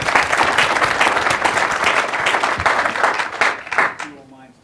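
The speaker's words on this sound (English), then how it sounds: "round of applause for our panel" Applause from an audience for a panel at a payment reform conference, loud, dense clapping that holds steady and then trails off into a few last claps as a voice begins.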